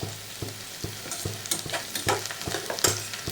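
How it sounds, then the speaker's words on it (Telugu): Curry leaves fry in hot oil for a brinjal curry, a steady close sizzle punctuated by regular, evenly spaced scraping strokes of a spoon stirring through the pan. "కరివేపాకు కూడా వేసాను బాగా వేగాయి"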